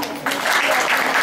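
Children clapping in a class, a burst of applause that starts sharply and carries on steadily, with no speech over it.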